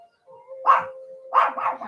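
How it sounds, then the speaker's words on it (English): A dog gives two short barks close by, with a faint steady hum underneath. "my dog was barking at the mailman across the street"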